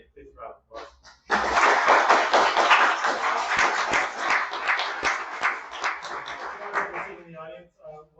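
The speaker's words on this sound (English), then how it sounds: "Please round of applause" Audience applause for a panel of three speakers at a media symposium, a dense burst of clapping that starts sharply, holds steady for about six seconds and then tapers off, with brief talk before it begins.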